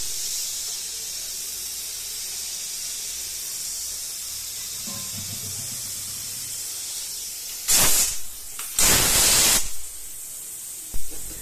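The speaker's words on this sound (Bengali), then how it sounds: "প্রেশার কুকারের ঢাকনা লাগিয়ে দেওয়ার পর চলুন একটুখানি সিটি ফেলে দেওয়া যাক" A pressure cooker steaming potol bhapa hisses with a steady, even jet of steam, then lets out two loud, sharp bursts of vented steam close by, followed by a short third puff at the end.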